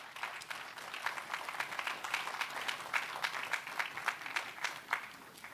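Audience applause at the launch of the Embu County Alternative Justice Systems action plan, a lively patter of many clapping hands with uneven bursts, moderately distant and fairly soft.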